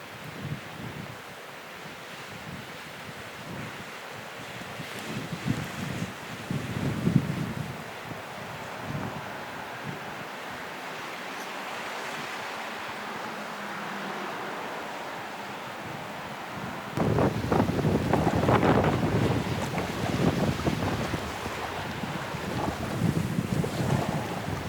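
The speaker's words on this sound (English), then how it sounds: "It's crazy when the big gusts come." Wind roars steadily across the microphone, building into a much louder, rougher gust in the second half, with water sloshing faintly underneath.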